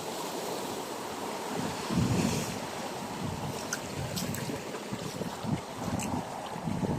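Waves slosh and break against a small boat at sea off Bataan, a steady rushing wash with wind buffeting the microphone and irregular splashes, fairly close throughout.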